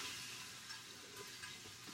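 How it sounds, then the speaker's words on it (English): Cubed veal and garlic sizzle in a hot pan, a soft, steady frying crackle heard close up but faint, continuing evenly without talk. "Can you hear sizzle?"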